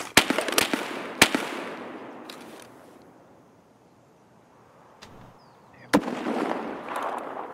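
Sharp sniper rifle shots crack in Escape From Tarkov, a few spaced reports with rolling echoes that fade into quiet before another loud shot and a burst of activity.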